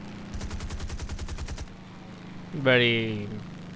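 The machine guns of a Vought F4U-1 Corsair fighter in War Thunder rattle off a quick, tightly spaced burst of about a second over a steady engine drone, followed by a brief rising and falling whine.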